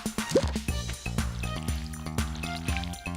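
Short watery splashes and tinkly game chimes while watering crops in Stardew Valley, a few quick pours over a light musical backdrop, fairly soft.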